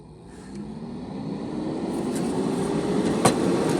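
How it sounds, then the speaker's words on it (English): A steady whirring hum gradually swelling as something spins up, continuous broadband rushing noise with a faint rising tone, close and constant. "Let me get this fan going. May get a little bit noisy"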